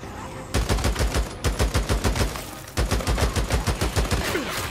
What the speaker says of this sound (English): let me change to my AK and